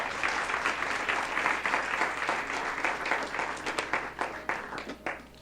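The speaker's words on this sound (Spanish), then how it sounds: "dele ese aplauso al Rey" A church congregation applauds during a Sunday sermon, a dense, steady wash of many hands clapping that carries on throughout without letting up.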